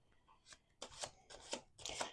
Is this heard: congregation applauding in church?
no